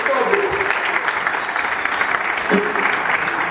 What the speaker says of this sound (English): And y'all give them a round of applause.